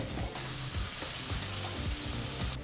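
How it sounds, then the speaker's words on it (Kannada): Onions for chicken gravy fry in a pan with a close, steady sizzling hiss that carries on throughout, broken now and then by soft stirring shuffles, with no talk. "ಹೀಗಿಲ್ಲಿ ಈರುಳ್ಳಿನ ಐದು ನಿಮಿಷಗಳ ಕಾಲ ಚೆನ್ನಾಗಿ ಫ್ರೈ ಮಾಡಿದ್ದೀವಿ"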